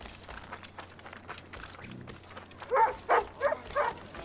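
A dog in Assassin's Creed: Rogue gives four short, fairly loud barks in quick succession near the end, over a low game ambience with soft footsteps and background noise.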